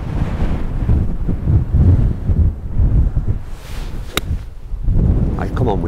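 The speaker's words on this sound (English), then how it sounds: "The wind is really howling all the time off the right" Strong wind blowing across a coastal golf course, a steady low roar and buffeting against the microphone throughout, with a brief sharp click near the end.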